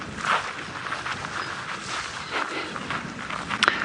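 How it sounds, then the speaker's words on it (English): Footsteps crunching over dry grass and sandy ground on a walking safari in the African bush, a steady rustling shuffle close by with a couple of sharper crunches near the end, no talking. "you can hear the crunching of the grass,"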